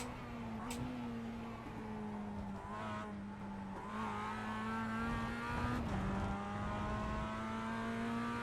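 Mazda MX-5 Cup race car engine in the iRacing simulator drones steadily under load, its pitch dipping with gear changes and downshifts, with brief tire squeal now and then and no talk.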